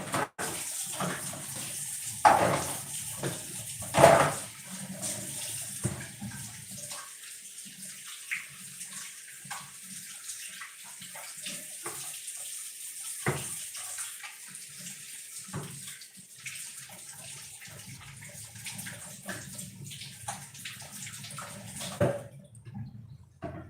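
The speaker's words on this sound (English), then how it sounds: "I'm going to wash my hands." Water runs from a tap into a sink during handwashing, a steady faint splashing stream with a few louder knocks and splashes early on, continuing for the whole stretch with no voices.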